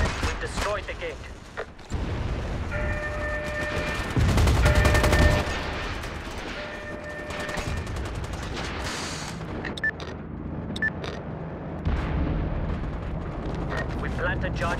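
A heavy explosion as charges blow a gate in the shooter MAG, a loud low rumbling blast amid ongoing gunfire and battle noise, with people talking over the action.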